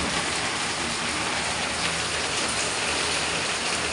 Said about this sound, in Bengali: ঝমঝম ঝমঝম করে কিরাম বৃষ্টি পড়ছে